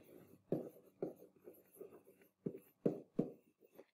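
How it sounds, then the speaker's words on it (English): Marker strokes on a board tap and squeak in short, quiet bursts of irregular rhythm while a quadratic parabola is being written out, with no talking. "So let me write that."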